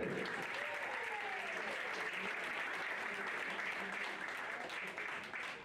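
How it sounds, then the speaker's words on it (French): Sustained applause from a crowd at an archery club awards ceremony, steady and dense throughout, with a voice faintly audible underneath. "On applaudit bien fort Briac Deneux."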